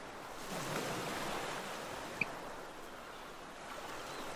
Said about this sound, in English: Just the ocean.